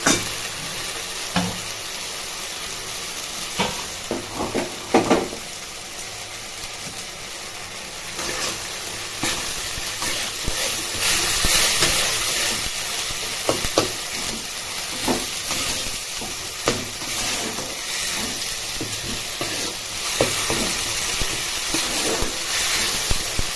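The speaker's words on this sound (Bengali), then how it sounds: "মা কষিয়ে নিচ্ছে মশলাটা" Spice paste sautés in a pan for a roasted cauliflower dish, a continuous sizzling hiss broken by occasional scraping and clattering of a spoon against the pan.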